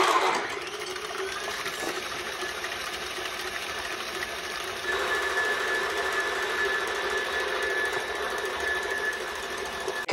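An electric mixer runs at full speed whipping seven egg whites with cream of tartar into meringue, giving a steady high motor whine that shifts slightly in pitch midway and continues unbroken.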